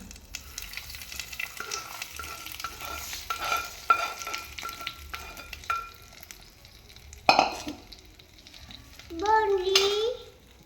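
Hot fried tempering is stirred into beetroot chutney, giving a close sizzle under spoon scrapes and clinks, ending in a louder burst of sizzling and stirring near the end.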